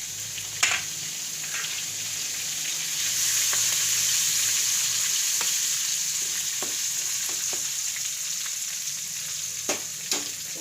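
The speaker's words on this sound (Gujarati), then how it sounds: "અને આપણે હિંગ નાખી દેવું, અને આ મરચાં નાખી દેવું આપણે" Asafoetida and chillies sizzle in hot oil for a Gujarati peas and bottle gourd curry, a steady close hiss with a few sharp crackles and pops and no talking.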